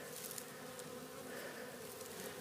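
Honey bees in a hive in winter give a steady, dense, faint buzzing hum that stays even throughout, with no voices over it.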